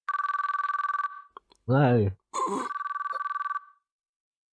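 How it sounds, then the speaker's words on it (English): A telephone rings repeatedly in a visual novel game, its rapid trilling bursts broken by a voiced sigh or groan in the middle, then the ringing resumes and fades out. "Maybe the monotonous sound of the ring was getting to me because I was starting to get sleepy."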